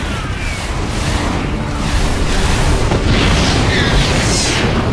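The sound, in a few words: medivac shot down and exploding in StarCraft II video game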